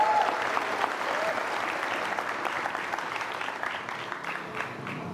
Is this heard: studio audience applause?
yes